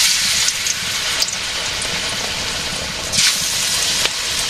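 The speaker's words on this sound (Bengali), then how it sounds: "প্রথমে ভেজে নেই, পুঁই শাক পাতার বড়া ভাজি।" Malabar spinach leaf fritters fry in hot oil with a steady, close hissing sizzle, rising into brief louder bursts of crackle now and then.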